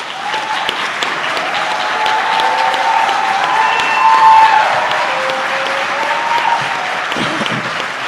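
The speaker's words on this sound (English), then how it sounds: "Would you give them a round of applause?" A crowd applauds the swearing-in of a police chief and assistant chief, loud, sustained clapping from many hands that swells near the middle, with faint cheers and murmurs mixed in throughout.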